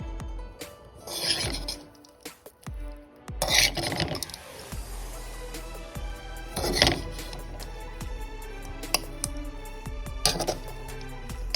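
Coconut rice is stirred in a metal pot, with a spoon scraping and rasping against the sides and bottom. Occasional clinks sound close, and the movements come in uneven strokes without talk.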